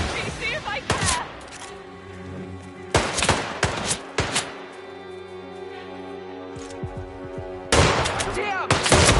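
Gunfire in the video game Hitman 3: loud bursts of shots in three separate clusters, sharp and close, with game voices and tonal music between them.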